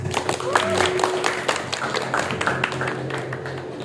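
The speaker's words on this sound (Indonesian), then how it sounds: "Jadi tepuk tangan ya" An audience at a journalism training session claps, scattered, uneven hand claps with crowd murmur and some talk running underneath.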